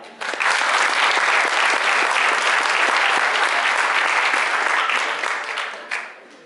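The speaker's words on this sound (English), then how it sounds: "Are you tired of clapping?" Loud, dense clapping from an audience at a garden awards event, a sustained roar of many hands that holds steady before tapering off near the end.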